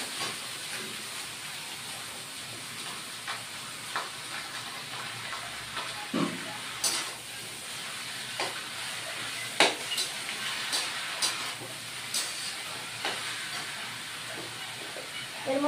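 Cabbage frying in a pan with bay leaf tempering, a steady soft sizzle and hiss with occasional louder pops and crackles scattered through, close and fairly quiet.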